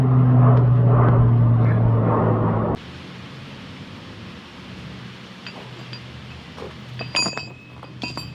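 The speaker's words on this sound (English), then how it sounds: "Crop duster?" A crop duster airplane passes overhead, a loud steady droning hum that holds for about three seconds and then cuts away, leaving quiet outdoor background with a few faint clinks.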